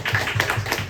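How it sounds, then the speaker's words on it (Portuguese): Church congregation at a Sunday service clapping in a quick rhythmic burst of sharp hand claps, close and moderately loud, lasting under a second. "Uma salva de palmas para"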